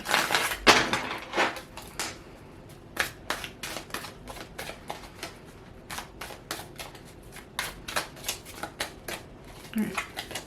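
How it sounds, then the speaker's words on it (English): Tarot cards being shuffled by hand in a reading, a series of quick riffling and slapping bursts at irregular intervals, close and moderately soft, with brief handling noises between. "Shuffle some more."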